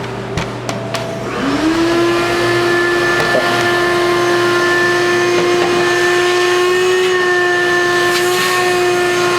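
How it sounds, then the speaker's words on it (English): A vacuum cleaner sucks up pastry crumbs from the bottom corner of a pastry case, starting after a few clicks and holding a steady, loud motor whine with a constant tone throughout. "Yazin now is just going to simply vacuum them."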